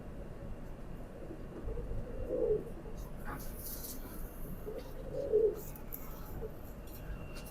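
A pair of kabootar pigeons cooing softly, with two low, rounded coos a few seconds apart over a steady background rumble, fairly faint and without speech.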